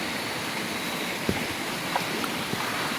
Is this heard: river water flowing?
yes